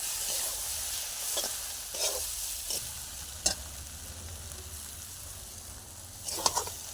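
Bottle gourd curry with egg fries in a pan with a soft, steady sizzle, punctuated by a few sharp scrapes and clacks of a spatula stirring at irregular intervals.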